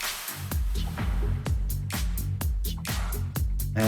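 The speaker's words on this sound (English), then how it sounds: "Reverb." DJ controller playing a driving electronic beat with a hall-style reverb effect applied, punchy kicks and bright percussive hits on a steady rhythm, each hit trailing into a washy echo tail, loud and continuous.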